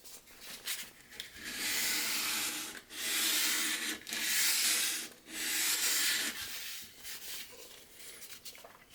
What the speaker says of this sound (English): I'm actually feeling with my thumbs through the sandpaper to the wood.